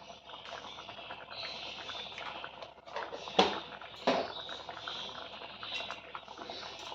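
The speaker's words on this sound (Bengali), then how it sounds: "লবণ দেওয়ার পর আমরা আরেকবার মিক্স করে ভালো করে ডালটাকে ফুটিয়ে নেব।" Toor dal bubbling at a steady boil in a pot after salt is stirred in, a soft continuous simmering hiss broken by two sharper pops near the middle, with no voices.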